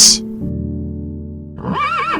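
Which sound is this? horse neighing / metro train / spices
horse neighing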